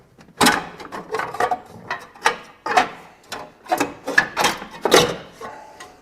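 Ratcheting and clicking as 10mm bolts are worked out of the engine tin on a classic VW Beetle, a series of short uneven metallic bursts at close range with no talk.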